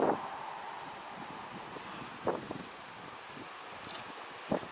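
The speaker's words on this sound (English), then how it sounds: "Because it's very windy," Steady wind rushes across the microphone in a low, constant roar on the coast at the Giant's Causeway in Ireland, with a few brief gusts and rustles standing out.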